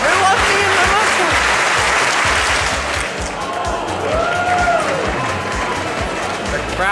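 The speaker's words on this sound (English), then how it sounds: "The crowd goes wild." A live studio audience at a running-show broadcast breaks into loud, sustained clapping and cheering, a dense steady wash of applause with a few shouts rising through it.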